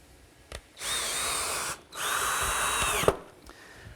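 A cordless power drill drives a screw to fix a guide onto the top of a flagpole, whirring in two sustained bursts with a short pause between them, close and fairly loud, with a few light knocks around it.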